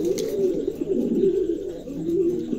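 Exhibition homer pigeons coo close by, a low, rolling, throaty warble repeating steadily with no talk over it.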